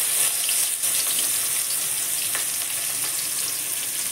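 Finely chopped onions sizzle loudly in a wok with black cumin and bay leaf, a dense, continuous frying hiss close by with faint stirring, and no speech.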